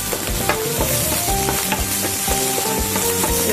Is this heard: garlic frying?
yes